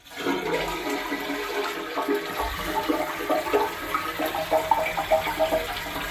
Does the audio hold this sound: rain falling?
no